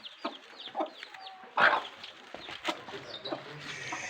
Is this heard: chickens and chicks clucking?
yes